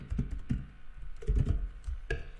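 Rapid, uneven keystrokes on a computer keyboard as an email address is typed, close and clear, with clusters of clicks and brief pauses and no talking.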